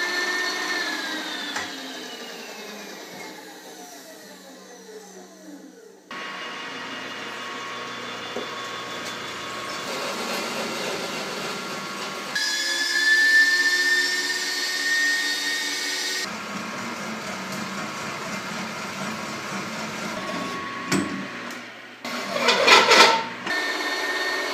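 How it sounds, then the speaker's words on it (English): Power drill whirring through steel tubing while boring a 1-inch hole, in several separate runs, with shifting pitch as it bites in, a sharp grinding burst near the end. "drill the 1-inch hole on this top side only."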